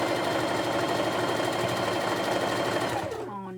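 A sewing machine stitches quilt borders in a fast, steady, continuous run, loud and close, then slows and winds down near the end.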